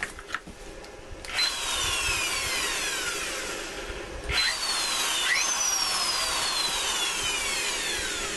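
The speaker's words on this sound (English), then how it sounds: "I'm gonna take this drill," A corded power drill, plugged in after its small electronics were repaired with a replaced capacitor, runs loudly and steadily up close with a rising-pitch whine, cutting off briefly and spinning up again twice.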